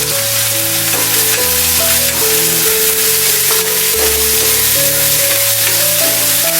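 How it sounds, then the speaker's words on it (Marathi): Chopped onion and curry leaves fry in hot oil for a dhaba-style egg masala, a loud steady sizzle running throughout beneath prominent background music. "कांदा चांगला ब्राऊन होईपर्यंत आपण इथे भाजणार आहे"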